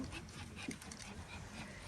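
A small dog gives soft, brief whimpers and light panting up close, low against a quiet background with no talking.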